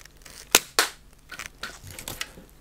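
Lego-like toy dart gun for conventions, two sharp snapping clacks in quick succession, then a few softer plastic clicks and rattles close by, with no speech.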